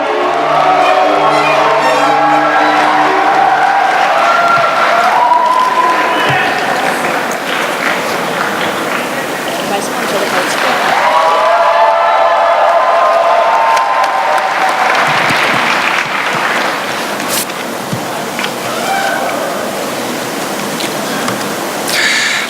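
Loud, prolonged applause and cheering from a crowd at a New Politics Alliance for Democracy party leadership joint campaign rally in South Jeolla, welcoming candidate Moon Jae-in. The clapping swells and persists while a loudspeaker voice and music are mixed in underneath.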